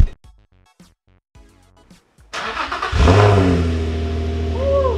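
A Nissan 350Z / Infiniti G35 fitted with a Magnaflow exhaust fires up after a quiet stretch, then revs loudly, settling into a deep, steady, close-up rumble.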